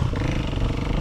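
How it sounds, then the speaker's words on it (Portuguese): Many dirt bikes, including KTM and Honda CRF 230 machines, rumble together at a trail ride event in Arabutã, Santa Catarina, a dense, continuous engine roar with rough, clattering texture for a brief moment. "Se liga a quantia de moto que tem aí"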